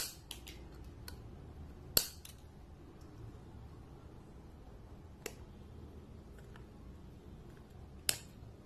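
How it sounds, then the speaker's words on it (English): Small snips of wire cutters trimming component leads on an LED clock kit board, a few sharp isolated clicks spaced irregularly over a quiet background. "Now we'll cut the lead."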